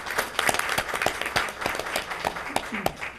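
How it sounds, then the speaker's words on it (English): A council meeting audience applauds a Navy veteran with steady, dense hand clapping that fills the room, with sharp individual claps standing out over the continuous wash. "The community actually did applaud you"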